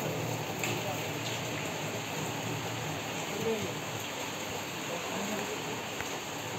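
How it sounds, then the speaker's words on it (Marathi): Heavy rain pours down in a dense, unbroken hiss that holds at the same loudness throughout, close and enveloping. "धो धो धो धो पाऊस."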